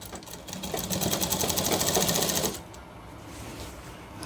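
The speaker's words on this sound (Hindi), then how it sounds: "अब हमें यहाँ पे लगानी है सिलाई।" A sewing machine stitches a shirt seam, a loud, steady rapid whirring chatter running for about two and a half seconds before cutting off to quiet room noise.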